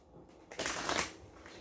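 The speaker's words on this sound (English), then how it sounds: "So let me get these shuffled really good." Tarot cards being shuffled, one quick soft riffle burst up close, faint and short in a quiet room.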